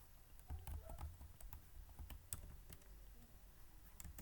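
Quiet clicking of keys on a computer keyboard while a MySQL database query is typed, an irregular run of soft taps heard close and alone with no voices.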